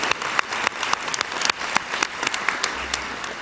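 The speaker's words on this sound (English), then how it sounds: "let's give them all a huge round of applause" An audience at a 2023 design school commencement ceremony applauds steadily, a dense wash of clapping with sharp individual claps standing out, sustained throughout and fairly close, with no voices over it.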